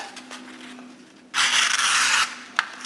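A Kershaw Leek knife with a Sandvik 14c28n steel blade, its edge getting jagged from use, drags through material in one close, rough, rasping stroke lasting about a second, a gritty scraping cut followed by a small click.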